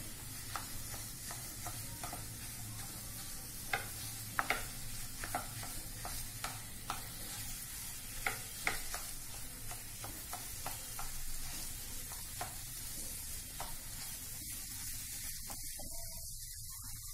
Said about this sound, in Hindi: ऐसे उसको धीरे धीरे भूनना है।